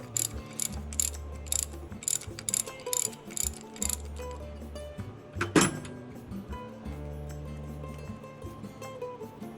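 A socket ratchet loosens bolts on the cylinder head of a Shenniu Chinese diesel tractor, giving rapid bursts of close metallic clicking in a workshop, with one sharp clank partway through and no talk.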